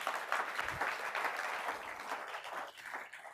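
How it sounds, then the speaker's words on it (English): A conference audience gives a round of applause at a live mortgage-broker event, a soft, fairly distant wash of clapping that holds steady for a few seconds before thinning out. "Round of applause for that."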